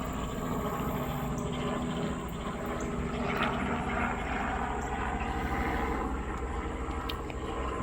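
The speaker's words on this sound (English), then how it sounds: "We've got a helicopter right there." A helicopter passes overhead, a steady low rotor rumble with a faint whine that holds throughout, moderately distant and with no speech.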